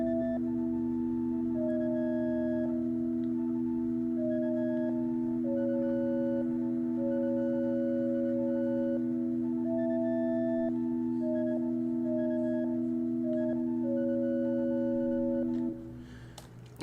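Sustained synthesizer patch from a Hydrasynth with a little reverb, steady droning chord tones with a melody shifting on top, playing alone for about fifteen seconds before cutting off.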